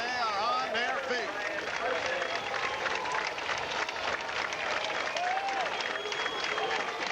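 A crowd at an Ohio State college baseball game against Minnesota, fans on their feet clapping and cheering in a loud, sustained roar, with a commentator's voice running over it.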